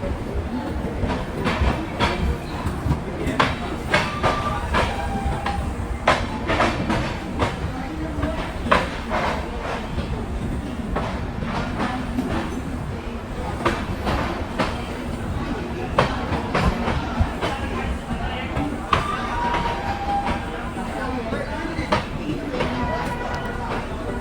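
The Bandra Terminus–Veraval express rolls along the rails with a steady rumble and repeated clickety-clack of wheels over joints, heard from on board while people talk nearby.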